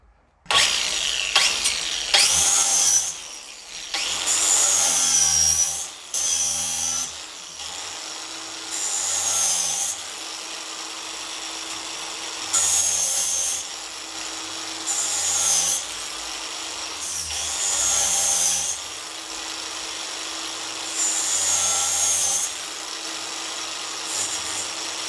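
A 4.5-inch angle grinder fitted with a 120 grit flap disc sharpens a lawn mower blade in repeated passes, a close, steady grinding hiss that rises and falls as each stroke starts and stops.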